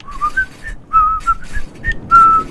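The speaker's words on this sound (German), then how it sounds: "Ich kann nicht mehr pfeifen" A person whistles a short tune in several bright, wavering phrases with brief pauses between them, close and clear.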